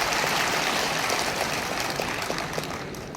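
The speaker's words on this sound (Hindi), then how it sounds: "कपिल कत्याल जो जोरदार तालियां बजा रहे भैया सबके लिए।" A large crowd claps loudly and continuously at an e-rickshaw sector meeting in Talkatora Stadium, Delhi, a dense, unbroken wash of applause filling the hall for a few seconds.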